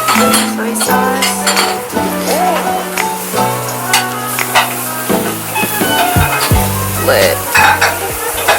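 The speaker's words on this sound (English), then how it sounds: "Sear both sides, dip in your sauce." Meat searing at a Tokyo restaurant, with a loud close sizzle and clinks of utensils under background music and chatter.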